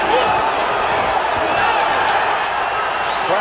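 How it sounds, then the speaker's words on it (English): Boxing arena crowd roaring loudly and continuously at an apparent knockdown that was only a slip, dense sustained yelling with no single voice standing out. "Crowd yells, but that was a slip."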